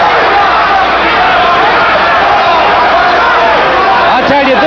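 A dense, roaring crowd inside a local fight arena during the closing seconds of a boxing round, loud and continuous, with cheers and shouts blending into a steady wall of noise.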